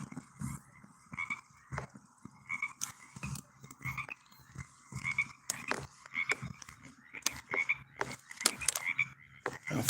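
Frogs croaking near Tillamook, Oregon: repeated close, raspy calls in irregular bursts with short pauses, several overlapping, loud against a quiet background.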